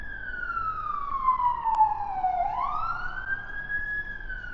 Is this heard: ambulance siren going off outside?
yes